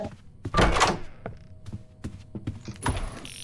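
A door in the Roblox video game opens with a thumping clatter, followed by scattered knocks and clicks at moderate loudness in a game setting.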